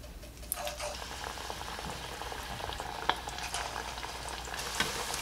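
Chicken vadai fry in hot oil, giving a dense, steady bubbling sizzle with a few faint clicks and no voices.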